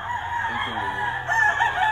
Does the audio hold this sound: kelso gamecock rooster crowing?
yes